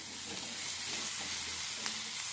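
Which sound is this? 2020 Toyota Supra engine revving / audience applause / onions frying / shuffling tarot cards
onions frying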